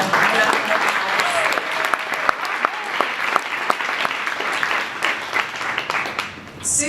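Sustained applause from an event crowd, a broad, even roar of many people clapping with a few sharper claps standing out, with some voices mixed in underneath.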